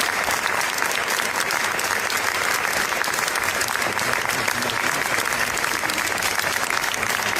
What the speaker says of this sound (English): Inside the courtroom, supporters applauded, calling it bravery.